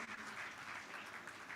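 Audience applause at an awards conference, a soft, steady wash of clapping with no voices, fairly distant and quiet.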